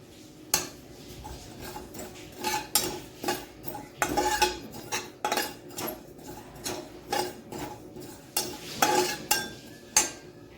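Cumin seeds are dry-roasted in a metal kadhai while a spoon stirs them, producing repeated scraping and clinking strokes in an uneven rhythm over about ten seconds, close and fairly loud.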